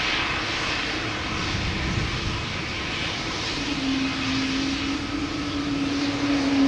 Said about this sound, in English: Air Baltic also taking cheater's lane.